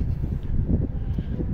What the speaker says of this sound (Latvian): Nu jā, diena ir vējaina.